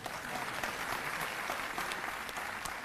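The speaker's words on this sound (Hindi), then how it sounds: "ताली बजाइए।" Audience applause at a Delhi lawyers' conference, a steady wash of many hands clapping together, sustained and fairly even throughout with no voices over it.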